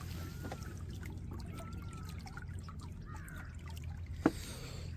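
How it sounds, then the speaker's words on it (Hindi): Flowing water in a quiet Himachal village, a soft continuous trickle and gurgle heard alone at a low level, with one brief knock near the end. "बहता पानी की आवाज़ सुनना, बहते पानी की"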